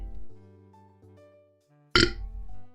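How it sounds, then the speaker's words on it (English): A single sharp, abrupt hiccup from a person bursts out loud and close over a soft background of sustained musical tones. "I have the hiccups because of all the water."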